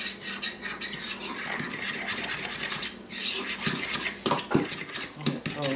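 A spoon scrapes and rubs steadily around a bowl while plain Greek yogurt is stirred into a tikka masala spice blend thickened with cornstarch, a close, continuous rasping and clinking with brief pauses.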